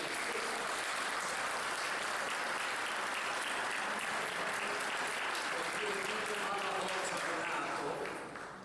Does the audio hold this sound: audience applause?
yes